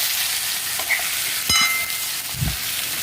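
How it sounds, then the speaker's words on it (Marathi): Stuffed brinjals fry in oil in a kadhai, giving a steady close sizzle with a few sharp clinks and stirring scrapes, no voices. "इथे सर्व वांगी कढईमध्ये टाकून घेते."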